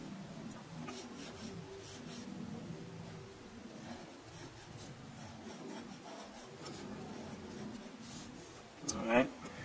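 Pencil scratching across paper in steady strokes while sketching a skull, a soft continuous rasp that stays close and fairly quiet, with a brief louder scrape near the end.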